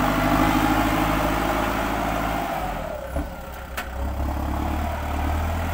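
A Kubota M6040SU tractor works while pushing dirt, its engine running loud and steady, easing off briefly, then settling back into a heavy low drone.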